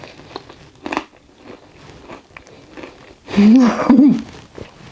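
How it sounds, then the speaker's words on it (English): A loud crisp crunch of biting into a fried onion bhaji, two bursts in quick succession, close to the ear, after quieter handling noises. "You could probably hear that crunch."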